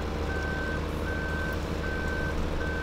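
A tractor in Farming Simulator 2015 reverses while hauling a trailer, sounding four evenly spaced electronic reversing beeps over a steady, loud engine drone.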